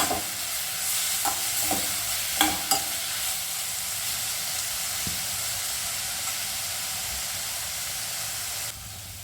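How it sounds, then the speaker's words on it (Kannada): Vegetables sauté in hot oil for vermicelli upma, a constant loud sizzle and hiss with a few sharp clinks of a spoon stirring the pan early on, then steady frying alone. "ಒಗ್ಗರಣೆಗೆ ಏನೇನು ಹಾಕ್ಕೊಂಡು ಅದೆಲ್ಲ ಹಾಕ್ಕೊಂಡ್ಮೇಲೆ ತರಕಾರಿ ಹಾಕ್ಕೊಳ್ಳೋದು ಅಷ್ಟೇ ಇದು ಒಂದು ನಿಮಿಷ ಎಣ್ಣೆ ಚೆನ್ನಾಗಿ ಬಾಡಲಿ"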